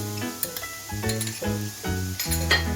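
Chopped onion fries with mixed vegetables, potato and zucchini in a pan, making a steady sizzle broken by several close metallic clinks of the stirring spoon against the pan, with a tonal drone running underneath.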